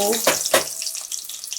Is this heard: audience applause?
no